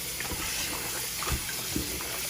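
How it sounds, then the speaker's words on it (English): Water from boiled oxtail pours and splashes steadily as it is drained from a pot into a sink, with a few soft clunks. "Drain off excess water"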